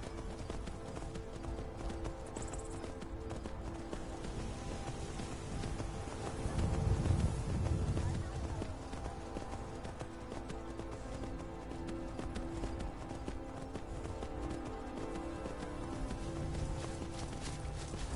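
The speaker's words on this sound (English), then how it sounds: "Oh, here's my horse!" Horse hooves clip-clop in a PS4 video game, a steady rhythmic trotting beat running throughout at moderate loudness, briefly swelling in the middle.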